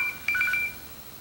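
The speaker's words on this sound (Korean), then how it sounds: "전화가 왔습니다" A phone gives a short electronic tone burst for an incoming call. Paired beeps sound close and clear for about half a second, then fade into room hiss.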